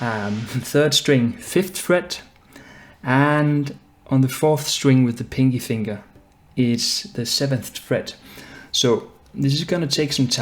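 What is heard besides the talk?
No everyday noise stands out behind the speech.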